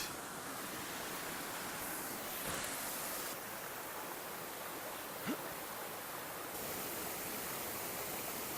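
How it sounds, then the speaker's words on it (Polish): A small waterfall on Koh Samui gives a steady, even rush of falling water, fairly faint. It stays unbroken throughout, with one brief knock partway through. "Mały wodospadzik."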